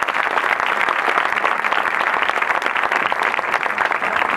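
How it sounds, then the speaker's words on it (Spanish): An audience at a book presentation breaks into sustained, dense applause, many hands clapping steadily at close range for several seconds with no speech over it. "Un aplauso para ella."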